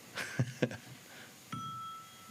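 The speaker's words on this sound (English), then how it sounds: "ring the bell" A few soft knocks come first, then a single bright bell tone rings out and sustains, quiet and fairly close.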